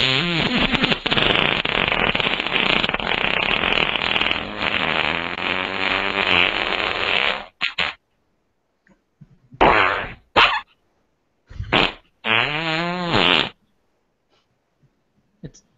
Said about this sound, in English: How's this count as one fart?